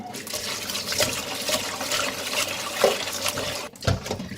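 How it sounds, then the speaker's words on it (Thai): Water pours and splashes into a bowl of salted shrimp being washed. The sloshing is continuous and close, with a few louder splashes. "เมื่อเกลือละลายแล้วนะ ให้ใส่น้ำล้างเลยค่ะ"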